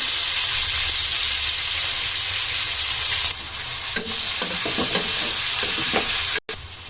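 Leftover oil frying in a pan while chicken roast is being started, a steady loud sizzle with stirring scrapes that grow busier in the second half, ending in a brief cut.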